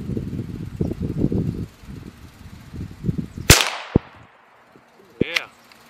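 Rifle shots from a .17 HMR and a .22 Magnum at clay blocks 100 yards away, one sharp close crack followed by a decaying echo and a couple of fainter impacts, after a stretch of talking.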